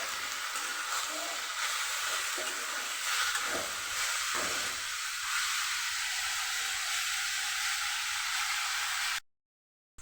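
Beans and potato frying in a pan make a steady hissing sizzle that runs evenly and close, ending abruptly in silence.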